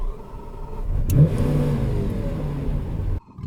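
A Lamborghini Aventador SV V12 engine revs up loudly and close, a sustained throaty roar that swells and holds before cutting off abruptly near the end.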